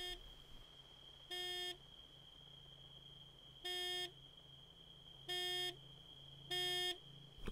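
Four short buzzy horn blasts from a vehicle in Arma 3 on Altis Life, spaced irregularly over several seconds, each held under a second, above a constant thin high tone and a low engine-like hum.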